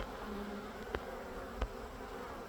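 A steady, dense droning hum of many honeybees in flight outside the hive in spring, continuous throughout, with a couple of faint soft thumps.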